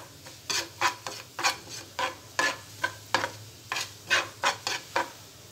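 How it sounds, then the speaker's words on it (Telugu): Cumin seeds crackle and spit in hot oil in a pan, a run of sharp, close sizzling bursts coming in an irregular rhythm over a low steady hum, with no voices. "ఆయిల్ వేడైన తర్వాత జీలకర్ర వేసుకోవాలి"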